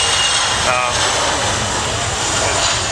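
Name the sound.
KC-135 jet aircraft flying landing attitude demonstration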